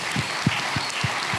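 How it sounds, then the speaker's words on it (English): Convention audience gives a round of applause for actor Sunny Suljic, a brief patter of clapping with a few louder claps, heard alone. "Once again, round of applause for Sunny, Suljic"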